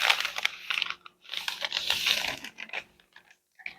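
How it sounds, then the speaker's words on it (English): Scissors snipping through a paper sewing pattern in short crisp bursts, close and quiet, with brief pauses between cuts. "All right, so I'm going to cut this pattern."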